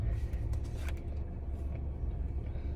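Cars passing on a nearby road, a continuous low rumble of traffic with engine drone and tyre noise that swells and fades slightly, steady and fairly close throughout.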